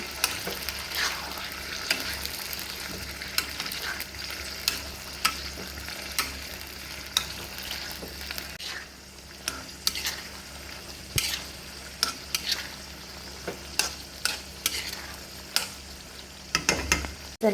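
Prawns fry in oil for a sukka, giving a soft, continuous sizzle close to the pan. Sharp spoon-against-pan clacks from stirring repeat every second or so, with no voices.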